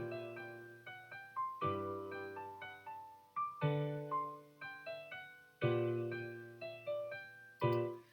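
Synthesized chord progression built in Logic X, a bass line doubling each chord's lowest note an octave below; sustained chords change roughly every second with clear attacks, plain instrumental music with no voices.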